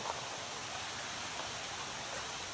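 Steady rain falls on a monsoon trek near Devkund Waterfall in Maharashtra, a dense, even hiss of drops continuing unbroken throughout, with no voices.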